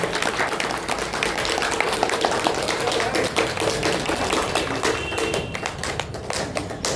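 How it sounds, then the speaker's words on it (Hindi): An audience at a yoga gathering bursts into sustained applause, a dense wash of many hands clapping close and loud for several seconds, with faint voices beneath. "तो जोर से ताली बजा के अभिनंदन तो करें"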